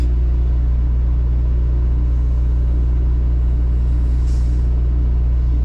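A truck idles with a steady, loud low-frequency rumble while backing a trailer, the engine drone holding constant with a faint hiss rising briefly near the end.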